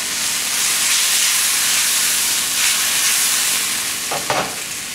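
Ginger beef stir fry cooking in a pan, a loud steady hissing sizzle with steam, swelling slightly, then a couple of quick scraping clanks near the end, no one talking.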